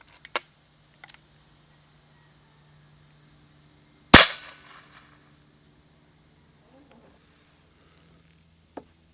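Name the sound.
Hatsan Nova QE .25 PCP air rifle shot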